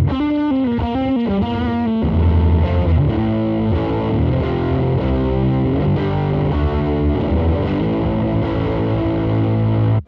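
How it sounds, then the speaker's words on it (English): A guitar plays through a Fender tube distortion pedal with an NOS military 6205 preamp tube, giving loud, saturated riffs and sustained chords that run continuously and alone, ending abruptly. "So another tube distortion pedal designed in collaboration with Bruce Egnator features a real NOS military 6205 preamp tube inside the pedal"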